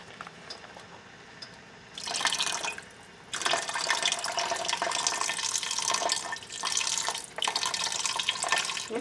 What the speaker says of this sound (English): Add some more beef broth.